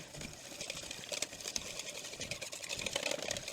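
Milk and sour cream are whisked together in a bowl, giving a continuous close, brisk scraping and sloshing with fast irregular strokes and no pauses.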